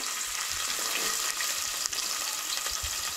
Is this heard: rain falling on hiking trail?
no